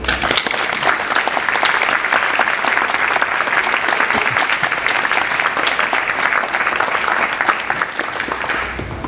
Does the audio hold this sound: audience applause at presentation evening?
yes